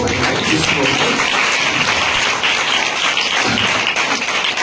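Dense, steady applause from a church congregation during an Odia Christmas service, a continuous wash of many hands clapping close and loud throughout.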